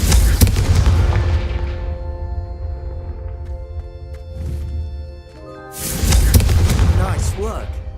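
Confringo fire spell blasts in the video game Hogwarts Legacy go off as two loud booming bursts, one at the start and one near the end, with a ringing, resonant tail between them and voices talking.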